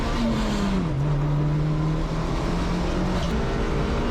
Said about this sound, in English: So we go out and do an out lap to cool the car down a bit